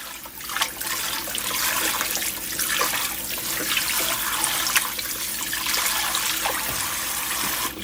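Running water rinses a raw pork shoulder in vinegar and water at a sink, a steady close splashing gush with uneven spatters as the meat is handled, with no talk.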